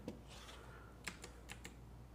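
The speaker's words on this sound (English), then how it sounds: "The keyboard still works, so I'll give it that." A few scattered computer keyboard keystrokes, quiet and close, with isolated clicks spaced irregularly over a low steady background hum.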